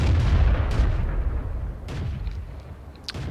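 Heavy cannon fire from a Lorraine 155 (50) self-propelled artillery gun in World of Tanks, a deep booming blast with rumbling low-end decay and a few later thuds, loud and continuous throughout.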